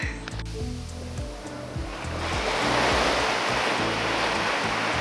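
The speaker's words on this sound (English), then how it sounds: "I can hear some of the waves crashing." Ocean waves crash and wash onto the beach at Matapouri Bay near Whangarei, New Zealand, a loud, continuous roar of surf that swells and builds.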